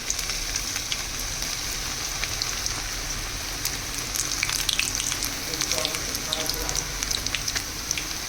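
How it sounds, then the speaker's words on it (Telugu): Bitter gourd pakodi fry in hot oil with a steady, close sizzle and crackle that grows busier and louder partway through, with occasional stirring. "ఇప్పుడు మనం ఈ పకోడీ దాంట్లో వేసుకుందాము"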